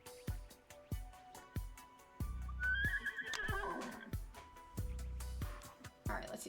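A horse neighs once in the Uma Musume video game, a loud rising whinny that breaks into a shaky descending trill. Rhythmic hoof clip-clops and steady game music play around it.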